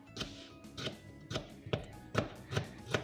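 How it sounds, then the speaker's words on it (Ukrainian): A knife chops vegetables for hot dogs on a board. About seven crisp, evenly spaced strikes land close by, with nothing else heard. "Овочі нарізаємо"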